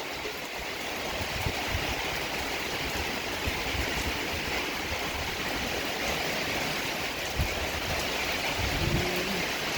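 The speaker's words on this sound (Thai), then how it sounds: "ทั้งลมทั้งฝนพี่น้องเอ้ย" Steady heavy rain pours down during a wind and rain storm with a continuous rushing hiss, occasional gusty swells and a few soft thumps, no voices.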